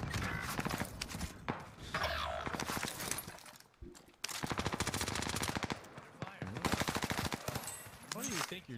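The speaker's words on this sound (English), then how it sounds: "They started shooting at me" Dense bursts of automatic gunfire in Call of Duty: Warzone, loud rapid rattling volleys separated by short gaps, with a voice talking briefly partway through.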